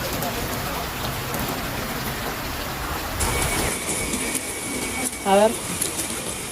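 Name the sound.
rain falling in a flooded city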